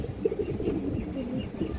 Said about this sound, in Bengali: লাল চুল্লি, অরিজিনাল লাল চুল্লি কবুতর।